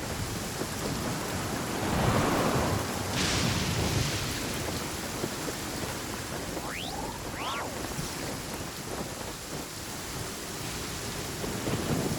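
Steady rainfall with low, rumbling thunder across a stormy scene in the video game Genshin Impact, with a few brief tonal game effects cutting through the continuous downpour.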